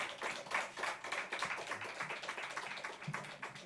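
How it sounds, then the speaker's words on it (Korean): A church congregation claps in welcome as a visiting Nepali-ministry pastor comes forward, a moderate, slightly uneven patter of many hands keeping a loose rhythm, fairly soft and without speech. "박수 한번 하겠습니다."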